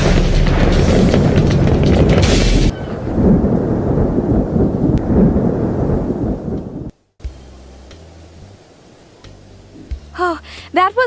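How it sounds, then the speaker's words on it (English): A sudden thunder strike in a cartoon thunderstorm, a heavy rumbling crash over rain and wind that cuts off abruptly, followed by quieter music and voices. "A thunder may strike any time."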